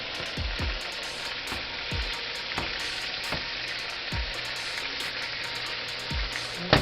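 Liver fries in a skillet with a constant crackling sizzle, broken by several sharp low thuds and scrapes as pieces are flipped over one by one, close and clear.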